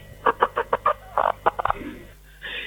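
A rhythmic series of short, bright chicken-like clucks, about a dozen quick close pulses, followed by a longer, softer trailing call and a faint rise at the end.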